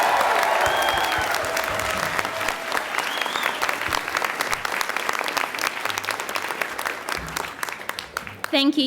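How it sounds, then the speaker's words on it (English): Audience applause at a CQUniversity graduation ceremony in Melbourne, a dense sustained clapping from a large crowd lasting throughout, loud and steady with a brief voice near the end. "Let's give her another round of applause."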